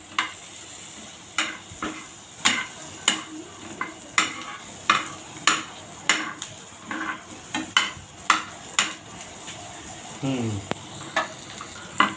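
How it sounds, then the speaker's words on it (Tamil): Garlic fries in a pan while a spoon stirs it in rhythmic scraping strokes against the metal over a low, steady sizzle, close by and without speech. "பூண்டு போட்டு வணக்குங்க"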